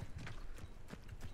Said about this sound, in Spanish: Caballo